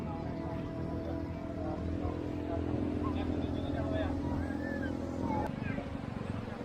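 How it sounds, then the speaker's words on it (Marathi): A steady, loud engine rumble from an ATV ride on Alibag beach runs throughout, with a brief change near the end and people talking over it. "ती जी बाईक आहे तिचा फायरिंगचा खूप भारी आवाज येतो"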